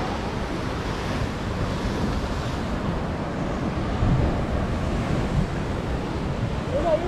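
Ocean waves at high tide rush and break in a steady, loud roar close by, with gusty wind buffeting the microphone throughout.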